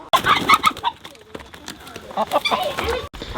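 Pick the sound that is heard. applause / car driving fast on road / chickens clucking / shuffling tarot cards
chickens clucking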